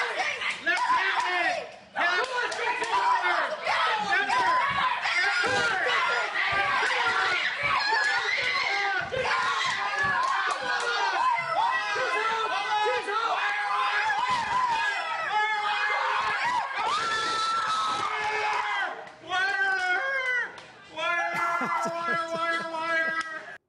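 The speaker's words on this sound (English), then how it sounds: "Let's listen to Anna cheering her home." A racehorse owner screams and cheers excitedly through a race finish, recorded on a phone, with loud, rapid shouted vocalizations, crowd chatter and some clapping throughout.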